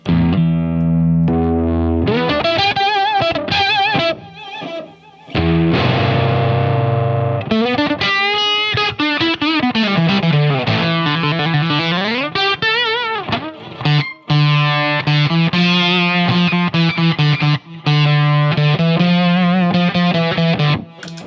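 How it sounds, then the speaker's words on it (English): Electric guitar played through an MXR Octavio octave-fuzz pedal on its own: loud, buzzy, synth-like lead phrases with sustained notes, bends and slides, stopping briefly between runs. "Then we have the MXR Octavio, which I never use on its own, but this is the way it sounds on its own"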